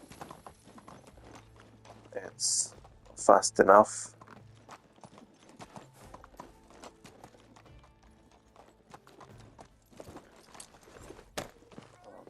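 In the video game Medieval Dynasty, steady hoof clip-clops of a trotting horse continue throughout, with a brief whinny and a short spoken remark partway through.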